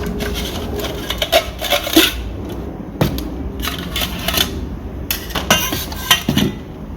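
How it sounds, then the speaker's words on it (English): Metal pots and pans from a Trangia spirit hiking stove clink, scrape and rattle as they are unpacked and handled, a steady run of close light knocks and sharper clanks with no talking. "If you flick everything back, you'll then have access to both pots."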